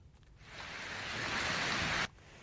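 Rain falls over villages around Upleta in Rajkot district as a cyclone passes nearby: a steady broadband hiss that swells for about two seconds, then cuts off abruptly.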